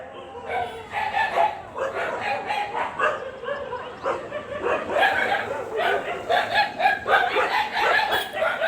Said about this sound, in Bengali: এক পাড়ার কুকুর অন্য পাড়ায় ঢুকে গেছে ওই জন্য সমানে চিৎকার করে যাচ্ছে